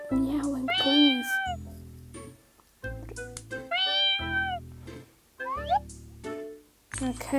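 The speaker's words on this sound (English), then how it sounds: "Stop with the meowing" Repeated synthetic-sounding cat meows from the puzzle game Brain Test in bursts, loud and close, with game music and effects throughout.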